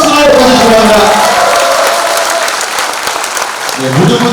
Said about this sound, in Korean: 큰 박수로 보내주시기 바랍니다